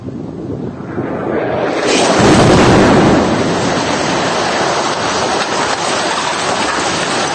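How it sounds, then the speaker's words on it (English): An Israeli airstrike explodes on a building in Gaza, a heavy blast that swells into a loud, sustained broadband roar and rumble, then holds as a dense, washing noise. "here is an Israeli strike on a building."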